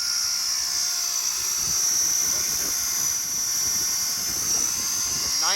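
A Tron 7.0 running at 2100 RPM gives a loud, continuous high-pitched whine over a rough mechanical drone, steady and close throughout.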